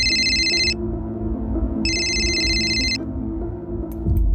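A telephone rings for an incoming call with two bursts of bright electronic ringing separated by a pause, loud and close, over a steady low background hum.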